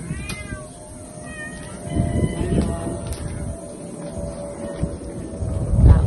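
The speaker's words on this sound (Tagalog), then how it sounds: "pusa ni guys." A cat meows several times over outdoor background noise in a morning yard setting, with rumbling and faint bird chirps around it; the cries are moderately near and repeated across the clip.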